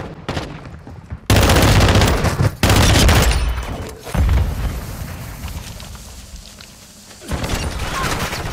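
Heavy automatic gunfire in a Modern Warfare 2 Hardpoint match, loud bursts of rapid shots near and continuous, with brief gaps and a dense barrage resuming toward the end.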